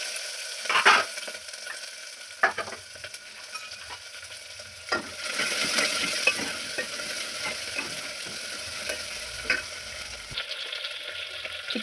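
Mustard seeds spluttering in hot oil, close and steady, with scattered sharp pops and crackles and stirring scrapes over a rising sizzle, no talking.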